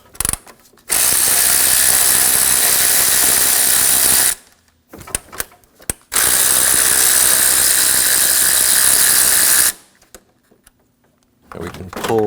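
Loud ratchet or power tool spinning out two 10mm bolts from a Honda A/C condenser cooling fan, two long whirring bursts separated by short clicks and a gap.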